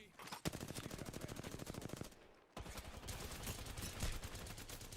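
Rapid automatic gunfire in the online shooter Apex Legends, dense fast bursts up close that break off briefly and then resume, loud and continuous beneath the game audio.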